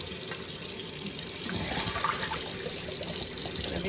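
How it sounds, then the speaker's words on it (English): Sliced potatoes for air fryer crisps are rinsed under a running kitchen tap, giving a steady close splashing and trickling of water into a sink. "I think they cook better if you wash the starch out"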